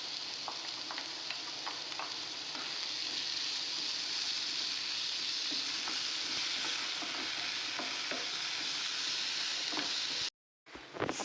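Tomato masala sautés with a steady sizzle in a pan while it is cooked down for egg biryani, a continuous frying hiss with occasional stirring clinks before cutting off abruptly near the end.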